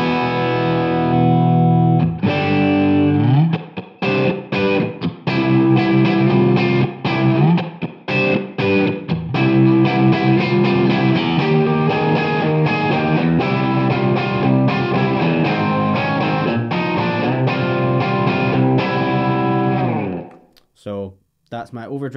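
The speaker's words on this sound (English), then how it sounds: "That's my overdrive sound." Overdriven electric guitar through a Suhr Eclipse overdrive pedal on its blue channel, set to low-to-mid gain, playing loud sustained chords and riffs for about twenty seconds before cutting off, with a few quieter notes at the end.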